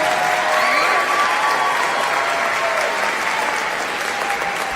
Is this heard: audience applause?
yes